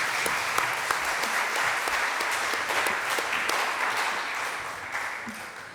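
Seminar audience applauds after a panel discussion, a steady, fairly loud patter of many hands clapping together that tapers slightly toward the end, with a few distinct claps standing out.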